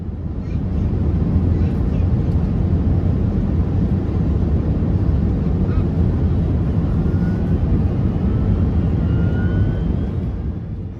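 Steady, loud cabin drone aboard a Singapore Airlines Airbus A380 in flight over the English Channel, a dense low rumble with airflow hiss holding constant throughout, fading in slightly at the start.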